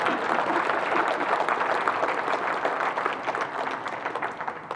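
A lecture audience claps together in a steady, dense patter that holds for several seconds and slowly thins out toward the end.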